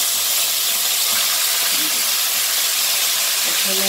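Water poured into ground spices frying in a pan for a Bengali pointed gourd korma, a steady, loud steaming hiss and sizzle that runs throughout without break.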